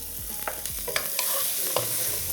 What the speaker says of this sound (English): Salt always helps when you are sauteing onions.